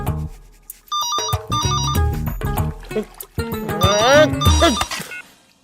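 A bright electronic ringtone plays a repeating melodic pattern, with a brief voice cutting in between the rings.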